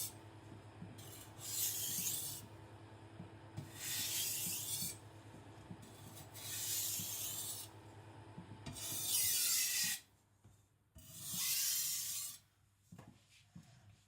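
Tojiro white steel shirogami nakiri being thinned on a 400-grit whetstone, close and quiet: about five long rasping strokes with brief pauses between them, then a few shorter scrapes at the end.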